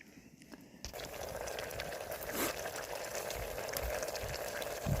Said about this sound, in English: Yeah, you can hear it. That's bubbling. Look at it going there.